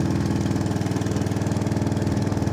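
A tractor engine runs steadily while the tractor sits stuck in a rut on a damaged road, making a close, loud, even low chugging throb that carries on throughout.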